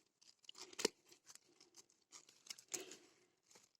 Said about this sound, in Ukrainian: Ось так зрізаємо все сухе.